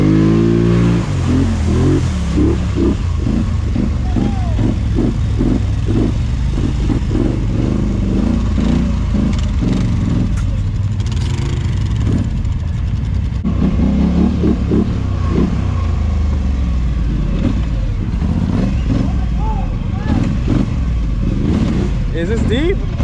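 An ATV four-wheeler, a 570, stuck in deep mud revs its engine hard in repeated surges, loud and close, while people talk over it.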